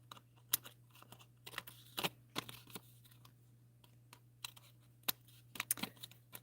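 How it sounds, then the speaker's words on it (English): Snips trimming excess paper from a stamped card, a string of faint, quick crisp snipping and rustling clicks in an irregular rhythm over a low steady hum, with no voices. "just take my snips and I just go along here and just trim off all of that"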